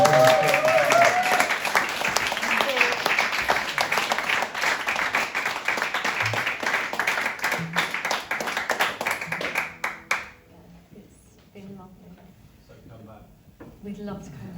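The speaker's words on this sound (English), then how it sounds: "Can we give the guys and the musicians a massive round of applause?" Pub audience clapping for the musicians, lively crowd applause with a few scattered whoops that runs strong for about ten seconds, then fades out into quiet room chatter.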